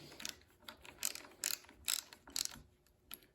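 Ratchet tightening the handlebar riser bolts on a Lifan KPR 200 motorcycle, a series of crisp, close clicking bursts in an uneven back-and-forth rhythm, about seven strokes, with no talking.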